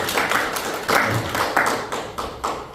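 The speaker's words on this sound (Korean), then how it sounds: "박수 한번 주시죠" A seminar audience at a gathering of pastors gives brief applause after a lecture, heard as a short run of rhythmic, evenly spaced clapping bursts in a moderately reverberant room.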